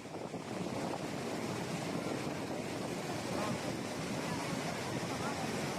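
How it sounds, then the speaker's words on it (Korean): Iguazu Falls, the waterfall between Brazil and Argentina, plays back in a church as a steady, broad roar of falling water with a wind-like wash, constant and moderately loud throughout. "폭포입니다. 이과수 폭포."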